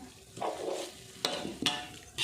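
Beef stir-frying in a pan for Thai khua kling, with bursts of scraping and stirring, sharp spatula strikes on the pan, and a soft sizzle between them.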